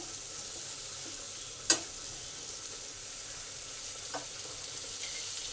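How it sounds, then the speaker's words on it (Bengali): Bata fish curry vegetables sautéing in a pan give a faint, steady sizzle with a couple of sharp clicks of a spoon against the pan, heard alone without talk. "দু মিনিটের মতন ভালো করে কষে নিলাম"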